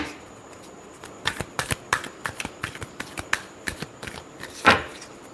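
Tarot cards are shuffled up close in a series of crisp, quick riffles and taps, ending with a slightly louder final snap of the deck.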